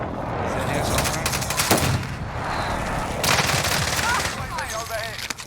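Rapid automatic gunfire in a first-person shooter game, dense bursts and single cracks rolling loudly across the whole stretch amid game effects, with faint voices in the background.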